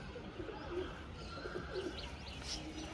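An old-generation Kalsila pigeon, a long-bodied bird, gives soft, low, rolling coos close by against a faint background hum, with a few light chirps mixed in.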